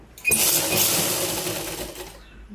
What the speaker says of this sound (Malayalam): ഇതുപോലെ നമുക്ക് കൈ മൊത്തമായിട്ടൊന്ന് സ്റ്റിച്ച് ചെയ്ത് വെക്കാം